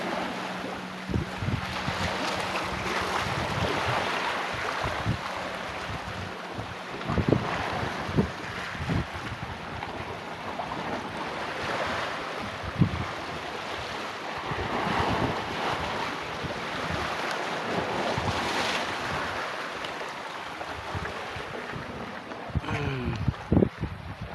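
Sea waves washing against a fishing boat, with steady wind buffeting the microphone and occasional knocks; continuous and moderately loud, no talking.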